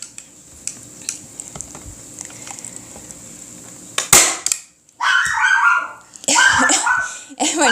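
A dog barks in several loud, close bursts right after a single sharp staple gun shot, the gun being used to build a DIY Christmas sign; the barks come in short clusters over a low background hum.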